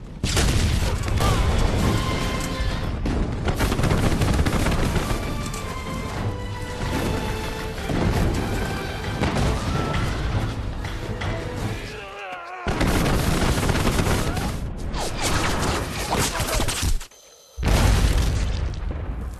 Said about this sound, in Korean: 그런 그들을 기다리는 것은 더욱 폭발적인 위력의 중신기전이었는데요